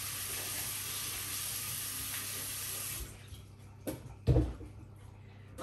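A kitchen tap runs steadily as a freshly dug pumpkin is washed clean of soil; the rushing flow stops partway through, leaving quieter handling sounds and a brief splash.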